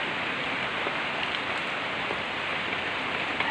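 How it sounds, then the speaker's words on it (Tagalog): Steady rain pours down the day after Typhoon Ulysses, a dense even hiss of drops hitting surfaces, constant and moderately loud with no pauses. "umulan na naman ulit"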